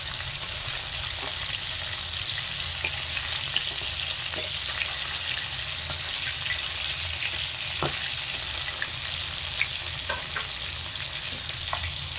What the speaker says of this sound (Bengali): মাছগুলো দেখেন ভালো করে ভাজা হয়ে গেছে